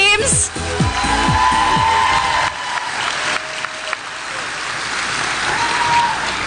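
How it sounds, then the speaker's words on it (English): A crowd applauds the teams on stage at a literacy council spelling bee, steady loud clapping filling the room throughout, with a voice briefly heard at the start. "Can we get a round of applause for all of our teams?"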